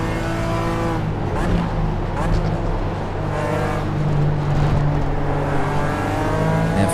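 A BMW race car in the iRacing sim, its engine revving and climbing through gear changes with steady harmonic tones, loud and close, while a commentator speaks over it.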